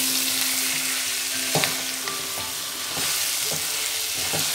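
Whole coriander seeds and onion frying on a high flame make a constant close sizzle, with regular scraping knocks of a spoon stirring the pan.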